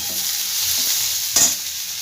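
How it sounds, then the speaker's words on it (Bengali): Chopped onions hit hot oil in a pan for egg rolls, giving a steady close hissing sizzle with a brief louder crackle partway through, no talk. "এই তেলের মধ্যে আমি এবার এই পেঁয়াজগুলো যে কুচো করে রেখেছিলাম, পেঁয়াজটা আমি সম্পূর্ণ দিয়ে দিচ্ছি"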